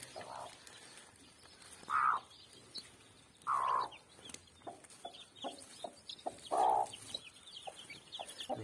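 A hen clucks in short, separated bursts, several times, close by, while faint high cheeps of newly hatched chicks sound in the background.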